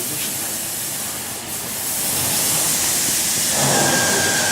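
Steam hisses loudly from a steam locomotive at a railway museum, a broad continuous rush that swells and grows stronger toward the end, with no talk over it.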